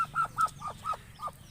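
Baby chicks peeping near their mother hen, six short bright chirps in a steady pulse, close and clear over a low background hum.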